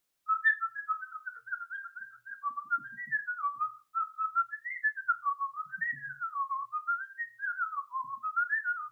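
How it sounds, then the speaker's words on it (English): A person whistles a continuous wavering melody, alternating between blowing out and sucking in air so the tone never breaks, loud and close with no talking. "I can whistle kind of infinitely just based on blowing out or sucking in"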